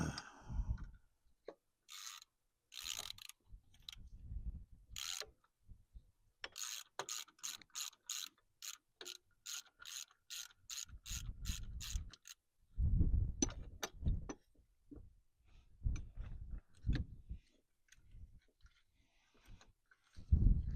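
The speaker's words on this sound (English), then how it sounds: "Gotta unbolt this from the alternator bracket." Ratchet clicking close up while a bolt is loosened from the alternator bracket during an engine pull on a 1998 Subaru Impreza, with bursts of rapid pawl clicks separated by pauses, clunks and metal handling noises.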